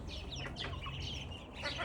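Young ducks and white chicks peep and chirp together, making a steady chorus of thin, high calls at low volume against a soft background hum.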